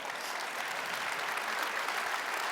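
Sustained audience applause fills a large conference hall at a tech summit, steady and dense from start to finish with no talking over it.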